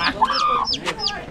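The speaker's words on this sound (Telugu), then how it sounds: "కోడి పిల్ల" Close, repeated chirpy clucking from a young chick outdoors in a village near Srisailam, several quick rising calls in a row.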